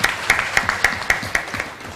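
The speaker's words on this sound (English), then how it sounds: "எல்லாருக்கும் நம்மளே ஒரு clap பண்ணிக்கலாம்" Applause at a medical sensitization workshop, a short burst of scattered, regularly spaced claps from a small group, close and clear with no talk over it.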